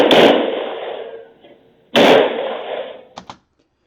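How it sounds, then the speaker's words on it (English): Security guards' gunfire during an active shooter incident in Metro Nashville: two sharp, loud reports about two seconds apart, each with a long decaying echo, followed by a pair of quicker fainter pops. "through the security guards and their gunfire."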